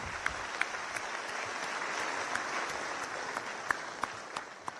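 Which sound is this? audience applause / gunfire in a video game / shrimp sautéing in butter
audience applause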